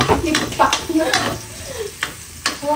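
Onions fry in a pan at home with a steady close sizzle, punctuated by utensil scrapes and clinks of stirring, while someone talks over the cooking.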